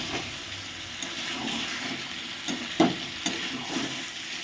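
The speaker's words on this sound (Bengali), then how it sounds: "দেখুন মাংসটা কি সুন্দর কষানো হয়ে গেছে।" Chicken kosha being stir-fried in oil in a pan, giving a continuous moderate sizzle with occasional scrapes and knocks of the spatula, and no talking.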